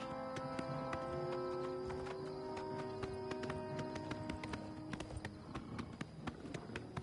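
Horse hooves clip-clopping in the video game Oblivion Remastered, a steady trotting rhythm of distinct hoof strikes under a sustained musical tone, with no talk over it.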